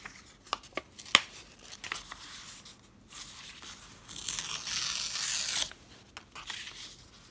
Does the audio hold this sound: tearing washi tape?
yes